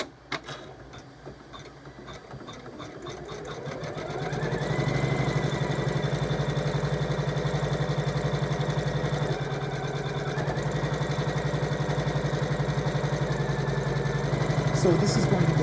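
A sewing machine stitches straight-line quilting on an in-the-hoop appliqué table runner. It starts after a few clicks, then runs as a steady, loud mechanical whir with a constant pitch that dips briefly near the middle.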